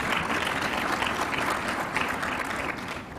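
Steady applause from a conference crowd in Zambia, many hands clapping densely and evenly for a few seconds before easing slightly at the end.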